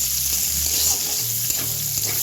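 Chicken pieces frying in oil for chili chicken give a steady, close sizzle with a bright hiss and a few soft stirring taps, and no talking.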